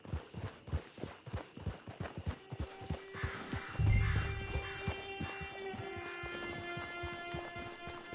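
Horse hooves clip-clop at a steady trot in Red Dead Redemption 2, with a horse whinnying midway and a low rumble at about four seconds, while faint tonal background music plays underneath.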